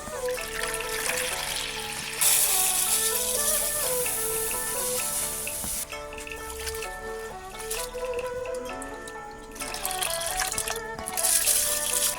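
Rice being washed by hand in a bowl of water to rinse out the starch, a steady close-up sloshing and trickling of water with drips, continuous through the whole stretch, recorded outdoors on a homestead.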